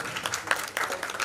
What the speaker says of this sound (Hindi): आपके लिए भी एक बार बहुत जोरदार तालियां